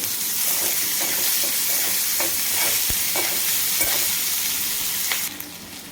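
Tomatoes and browned onion sauté in a pan for a prawn masala, giving a steady, close sizzle broken by scraping stirs and a few clanks of the spoon against the pan.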